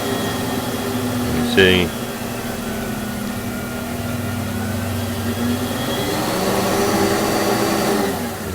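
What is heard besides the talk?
shop vac running on a blast cabinet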